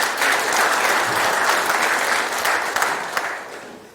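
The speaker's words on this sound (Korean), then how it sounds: "우리 지방의원님한테 힘내시라고 다시 한번 박수를 부탁드립니다" Sustained applause from an audience at a political meeting with a presidential hopeful, dense and fairly loud throughout, with a few sharper individual claps standing out before it tapers off.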